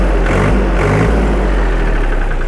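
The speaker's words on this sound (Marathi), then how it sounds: "आता तुम्हाला ट्रॅक्टरचा आवाज ऐकून दाखवतो" A Swaraj Target 625 25 hp tractor engine idles close by with a steady, loud, low diesel throb throughout.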